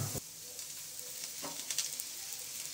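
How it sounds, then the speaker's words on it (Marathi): Onions fry in a little oil in a pan for a Kolhapuri mutton dish, a steady, soft sizzle with a few scraping stirs, close but fairly quiet, with no talking. "आज हा किती कांदा भाजून घ्यायचा? असं लालसर होतं."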